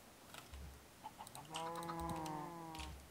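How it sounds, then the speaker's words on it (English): A chicken in a video game gives a drawn-out, tonal cluck near an egg, clear and close for about a second and a half, with soft keyboard tapping before and under it. "There's a chicken with an egg."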